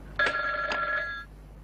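A telephone rings in an office: a short, clear electronic trill with two quick pulses, close and fairly loud, over a faint background hum.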